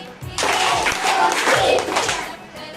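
A group of children claps a short counted series of claps, a few sharp hand strikes close by with a faint murmur of voices.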